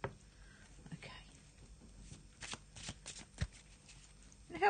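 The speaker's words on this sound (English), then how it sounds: "I'll have a shuffle and see what we've got for our card for the day" Tarot cards being shuffled by hand up close, soft intermittent riffles and slaps in short bursts against a quiet room.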